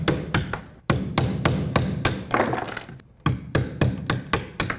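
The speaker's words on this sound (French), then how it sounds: "on va prendre un petit outil pour enlever, dégager les morceaux" A small tool chips broken ceramic tile pieces off a wall over a KERDI membrane, giving close, loud, rapid strikes in quick runs with brief pauses between.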